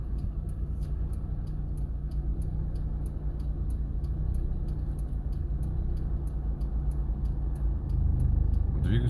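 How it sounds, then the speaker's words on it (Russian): A car engine idles steadily during a city driving lesson, a low, continuous rumble and a faint regular ticking, rising slightly in level near the end. "Слушаем звук двигателя"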